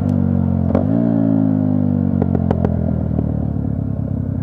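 A Yamaha YZF 125 R sport motorcycle rides across motocross terrain, its engine droning steadily and loud throughout, with a brief rev near the start and a few sharp clatters and knocks from the rough ground.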